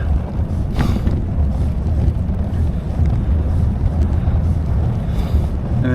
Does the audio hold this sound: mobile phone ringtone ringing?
no